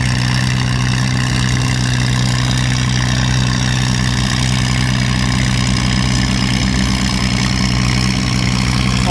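A tractor engine roars under heavy throttle, a steady, loud, low drone that holds for the whole stretch without talk, like a pulling competition run.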